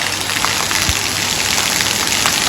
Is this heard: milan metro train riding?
no